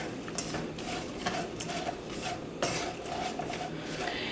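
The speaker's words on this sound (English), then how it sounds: "Continuing to stir." A utensil scrapes and clinks against a pan while tempeh sausage gravy is stirred, producing repeated close metallic taps and scraping strokes in an irregular rhythm.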